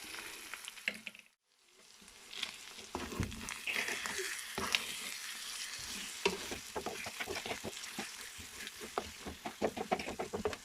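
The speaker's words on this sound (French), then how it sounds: "maintenant, je vais ajouter mes œufs" Eggs hit a hot pan and sizzle steadily, with scraping and stirring clicks layered over the frying hiss after a brief quiet gap near the start.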